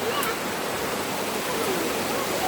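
Steady, loud rush of water flowing at the Kalilangan Cold Spring, a continuous broadband roar close by with no breaks.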